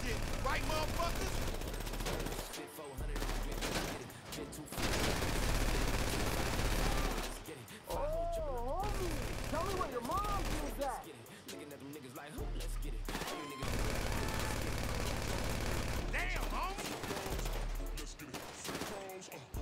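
Bursts of automatic gunfire and explosions from the video game GTA 5, loud and sustained with brief pauses, mixed with game sound effects and occasional voices.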